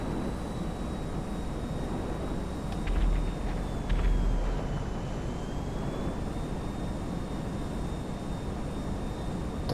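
The B-11 Strikeforce jet in Grand Theft Auto 5 gives a steady, broad engine roar with a thin high whine running throughout, plus a couple of low thumps partway through.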